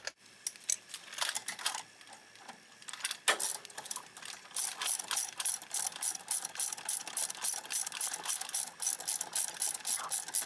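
A hand ratchet tightens a car's front brake caliper bolt during a brake pad replacement, giving a steady run of fast metallic clicks up close, with no talking.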